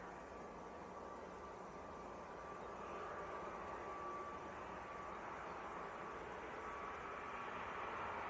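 An Aer Lingus airliner from Dublin rumbles at Leeds Bradford Airport, a faint, steady broadband roar of jet engines heard from a distance that swells slightly toward the end, with no voices present.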